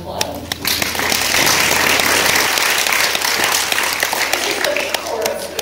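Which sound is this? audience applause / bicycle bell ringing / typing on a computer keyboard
audience applause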